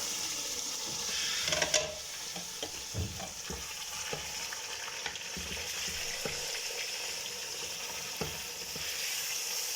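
About 1.5 kg of meat for nihari fries in a pressure cooker, a steady close sizzle broken by scattered pops and scraping stirs.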